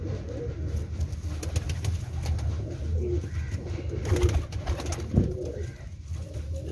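A pigeon of the Cheena breed coos in low, throaty bursts close by, repeating over a quiet, steady background.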